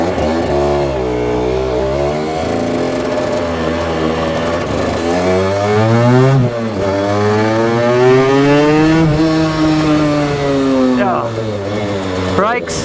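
An Aprilia RS two-stroke motorcycle engine revs up and down in long rising and falling sweeps, loud and close, with a raspy buzzing tone and brief dips between pulls.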